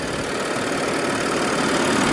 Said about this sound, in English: Very quiet engine on idle. In all fairness, it's quite a large V6